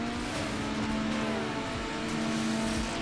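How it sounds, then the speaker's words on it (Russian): A BMW E36 in Need for Speed, engine revving hard under a steady buzzing drone whose pitch rises and falls as it is worked through the gears, continuous throughout with no pauses. "мы сейчас нещадно будем просто газовать"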